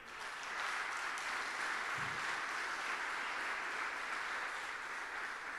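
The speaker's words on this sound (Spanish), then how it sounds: "Dele palmas a Él." Sustained applause from a church congregation, a continuous hiss of many hands clapping at a moderate, distant level.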